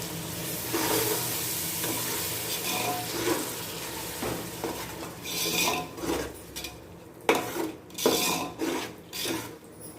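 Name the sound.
sautéing tomatoes with mint in a pan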